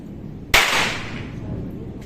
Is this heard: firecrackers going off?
yes